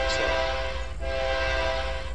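A CN mixed freight train in the Trainz 2019 simulator, on the Tidewater route, sounds its horn in a steady sustained blast over continuous rail rumble.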